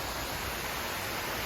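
A waterfall pours in a steady, dense broadband rush, continuous and even throughout, with no voices over it.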